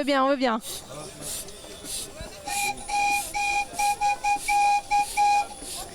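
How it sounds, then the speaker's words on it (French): A whistle sounds in a series of short, fairly loud toots in a broken rhythm, following a brief warbling note at the start, at an outdoor harvest festival. "je vais vous faire un petit coup de sifflet"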